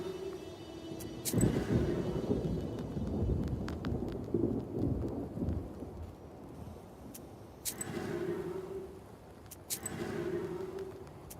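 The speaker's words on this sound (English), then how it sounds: "It's just the gloomy weather. With this rain and all." Rain falls steadily in the Black Book video game, with rumbles of thunder rolling through at intervals and a few sharp cracks, dense and moderately loud throughout.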